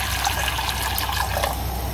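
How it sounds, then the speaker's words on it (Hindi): About half a litre of water pours from close by into a cooking pot on a gas stove for boiling pasta, a continuous splashing fill with no talk. "इसमें डालूंगी करीबन हाफ लीटर पानी"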